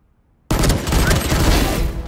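Valorant gunfire: a sudden loud burst of rapid shots that begins after a short silence and keeps up in a dense volley to the end.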